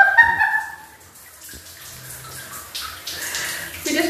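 Water splashing and running in a bathroom while two people bathe, soaping up, with intermittent pouring and splashes close by, surging louder at the start and end.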